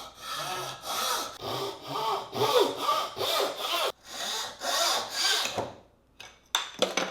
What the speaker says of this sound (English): This does leave a little floating piece left over, but nothing a handsaw can't take care of real fast.